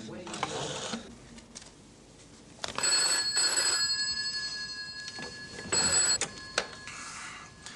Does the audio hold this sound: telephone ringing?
yes